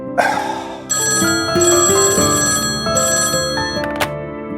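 An indoor telephone ringing, a bright electronic ringtone repeating in steady bursts, loud and close with no talk over it.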